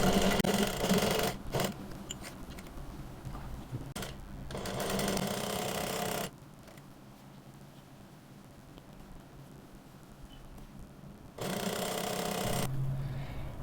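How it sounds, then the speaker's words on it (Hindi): A sewing machine stitches a folded shirt button placket in stop-start runs, with several bursts of fast, even needle clatter close by and quiet pauses between them. "तो चलते हैं सिलाई मशीन पे। ये बटन पट्टी को इस तरह से फोल्ड करके और इस तरह से करते हुए मैंने यहाँ पे सिलाई लगा लेनी है"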